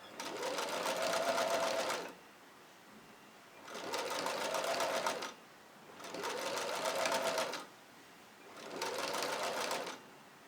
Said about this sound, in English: you could sew too fast and make a mistake